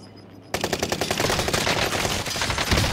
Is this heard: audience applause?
no